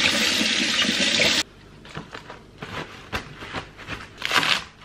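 Tap water running hard into a kitchen sink while chopped green onions are washed, a loud steady gush that cuts off abruptly, followed by wet splashing, rinsing and handling noises.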